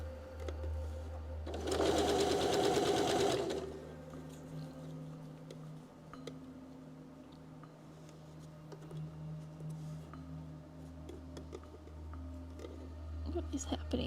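A sewing machine joins rainbow quilt blocks with a close, loud burst of rapid stitching lasting about two seconds, then low mechanical hum and small handling noises, with faint talk in the background.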